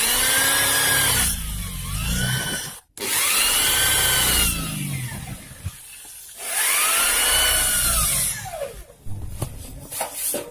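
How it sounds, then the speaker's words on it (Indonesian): A power drill whines in long bursts as it bores holes into a metal amplifier chassis, its pitch rising and falling, with short pauses between holes. "sudah kita bor untuk bagian trafo, tune control, dan bagian powernya"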